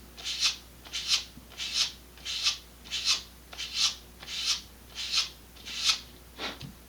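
Sanding around the edge of a vintage Estes Sentinel model rocket part, about ten evenly spaced rasping strokes in steady rhythm, close and clear with no talking.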